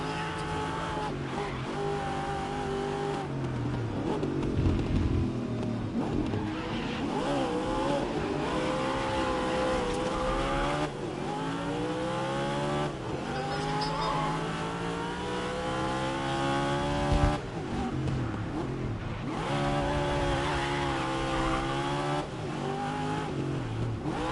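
A race car drifts through corners in the racing game GRID, its engine note rising and falling in sweeping pitch bends over a steady bed of tire and road noise, loud and continuous throughout.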